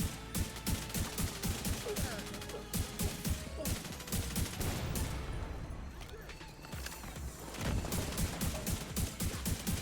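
Firefight in the video game The Division 2, with rapid bursts of automatic gunfire and sharp impacts repeating through most of the stretch, a brief lull in the middle, then more volleys, all moderately loud.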